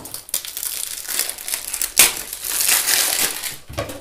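Crinkly plastic wrapping on a boxed RuiChuang or RuiShi speed cube is crumpled and handled up close, giving a loud, continuous crackling with sharper crunches, and no talking.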